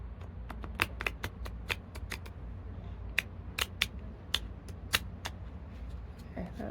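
Tarot cards are shuffled in quick riffling bursts, crisp snaps repeating irregularly, close and fairly quiet against a soft background hum.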